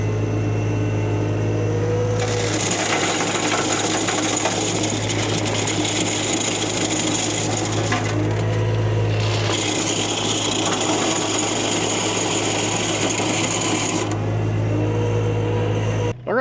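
Excavator-mounted flail mulcher shredding a bush, a loud, continuous grinding roar over a deep hydraulic engine drone, surging in two long bursts with a brief drop between them.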